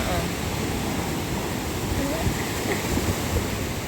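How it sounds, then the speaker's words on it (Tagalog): Strong sea waves surging against rocks on the coast at Mauban, Quezon in stormy weather, a steady loud roar of surf and wind with no break. "Ang lakas ng alon"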